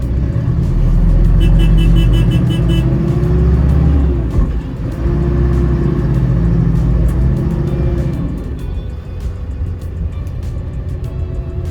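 A 2025 Roxor off-road utility vehicle engine rumbles loudly nearby, revving and shifting gears as it drives, with gravelly road noise and no talking.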